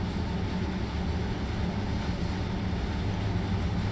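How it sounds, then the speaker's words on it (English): In Train Sim World 2, a locomotive pulling passenger coaches rolls along, producing a steady, loud low rumble with a dense rail roar that stays even throughout the few seconds. "they opted for a locomotive with coaches"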